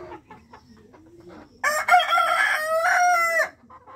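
Sonali chickens cluck quietly before a loud rooster crows once, a long harmonic call lasting about two seconds, then the soft clucking returns.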